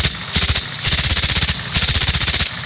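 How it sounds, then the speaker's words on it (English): A 1928 Thompson submachine gun firing .45 caliber rounds in rapid automatic bursts, three loud close strings of shots with short pauses between them. ".45 caliber rounds"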